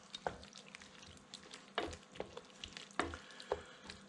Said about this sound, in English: Let's get a quick stir.